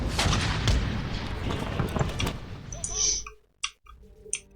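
Cannon fire from artillery batteries in the strategy game Empire: Total War, with several booming, crackling volleys in quick succession. The barrage drops away into near silence, broken by a few sharp isolated clicks.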